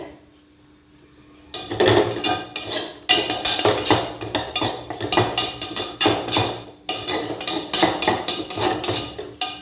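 Sweet modak filling is roasted in a pan over a low flame. After a quiet start, a metal spatula clanks and scrapes against the pan in rapid, rhythmic strokes, loud and close.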